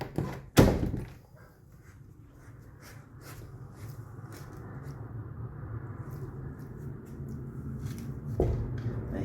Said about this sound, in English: We're going to shut the door.